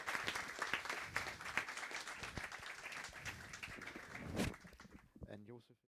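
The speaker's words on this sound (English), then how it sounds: "let's give Justus a big round of applause" A conference audience at a Django developer event breaks into loud, dense applause that fades out near the end as a voice briefly speaks.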